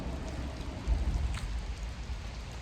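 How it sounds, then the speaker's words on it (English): Heavy rain pouring outdoors during a steelhead fishing trip on Lake Erie, a steady, dense hiss close to the microphone that barely changes throughout, with no voices. "we are getting rained on pretty hard here"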